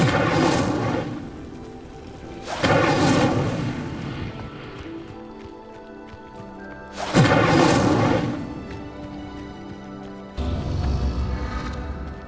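A fire spell in the Hogwarts Legacy video game ignites a pyre, which then sinks. Several heavy whooshing bursts and rumbling roars rise and fade in turns, with low rumble between them and a deep thud near the end.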